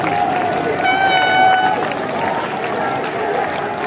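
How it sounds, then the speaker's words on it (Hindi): Continuous applause from a crowd at a BJP election rally in Uttar Pradesh, a dense clatter of many hands, with people talking over it throughout. "वहां भी सब सारे लोग ताली बजाएंगे।"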